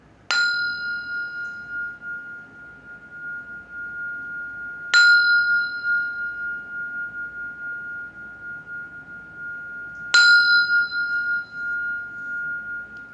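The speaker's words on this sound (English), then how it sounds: "I'll sound the bell." A bell is struck three times, each bright strike ringing out with a long, clear sustained tone that slowly fades before the next.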